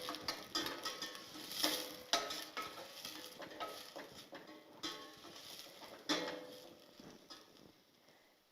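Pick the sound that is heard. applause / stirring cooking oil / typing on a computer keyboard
stirring cooking oil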